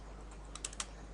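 Brief burst of typing on a computer keyboard while writing code, a handful of light, crisp key clicks spaced unevenly over about a second against a quiet, hissy background.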